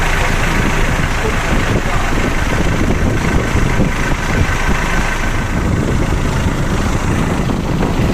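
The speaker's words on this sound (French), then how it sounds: "Donc les moteurs tournent mais ils ne nous font pas avancer." Sailboat engines run steadily at sea during a Canaries to Senegal crossing, a continuous low droning rumble mixed with wind and wave noise throughout, fairly loud and unbroken.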